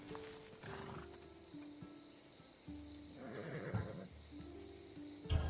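Horse in the video game Assassin's Creed Odyssey gives several whinnies and snorts, shifting about with soft hoof noise, moderately close and clear over a quiet background.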